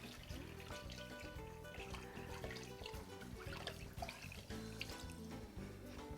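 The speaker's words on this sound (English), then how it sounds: "we're going to add some water" Water poured from a container into a pot over meat for birria, a faint continuous trickling and splashing heard over a low busy background with no speech.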